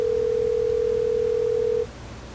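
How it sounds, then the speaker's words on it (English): A steady telephone dial tone hums loud and unbroken for nearly two seconds, then cuts off abruptly, leaving quiet line noise. "I'm gonna just call your phone."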